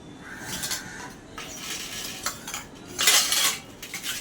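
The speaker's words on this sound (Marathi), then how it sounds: "भांडे घासतानाच ही देवाची भांडी पण मी घासून घेतली" Metal puja utensils scrubbed and knocked together while washing dishes, irregular close clinks and scraping clatters that grow louder toward the end, no talking.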